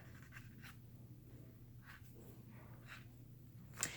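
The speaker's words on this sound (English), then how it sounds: "I think what I'm going to do is just write upper here and lower here" Pen writing on planner paper, a few faint short scratching strokes with pauses between them, close and quiet over a low steady hum.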